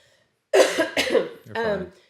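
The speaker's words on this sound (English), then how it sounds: "excuse me, I have to cough." A sharp cough bursts out, followed by a second cough and a third, rougher one, close and fairly loud in a quiet room.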